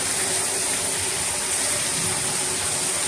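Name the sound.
floodwater rushing during Las Vegas rainstorm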